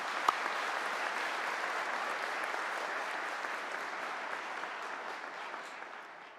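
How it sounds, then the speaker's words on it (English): Steady, dense applause from a large graduation audience at the Henry Wise Wood 2025 ceremony fills the room, holding at an even level throughout with only one sharp clap standing out early. "Please join me in a round of applause."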